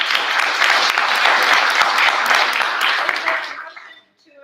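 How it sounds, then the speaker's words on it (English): A faculty senate meeting audience gives a round of applause, a loud, full burst of clapping that fades out quickly into near silence at the end. "can we please have a round of applause for Ms."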